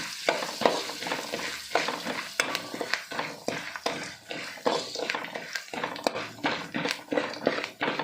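Ingredients for a churumuri puffed-rice snack fry in a pan with fresh coriander, with a continuous sizzle broken by busy rhythmic stirring and scraping strokes, close and fairly loud, with no talking.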